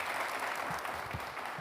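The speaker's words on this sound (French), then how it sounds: "j'aimerais que vous applaudissiez très très fort pour ce monsieur" Studio audience applauding on a TV show, dense continuous clapping from a crowd, steady and fairly loud for the whole moment.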